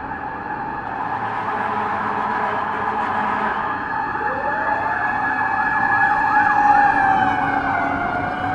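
A fire truck siren wails and yelps as it passes on a city road, loud and rising over steady traffic and engine rumble.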